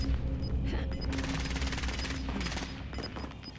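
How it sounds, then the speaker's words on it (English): Sustained automatic gunfire in the Call of Duty: Modern Warfare video game, a dense continuous fusillade of rapid shots with crashing impacts, loud and close throughout with no talk. "they're firing here"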